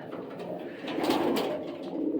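Giant Homer pigeons coo at a feeder in a soft, continuous murmur of overlapping throaty calls, close by and steady, with no talking.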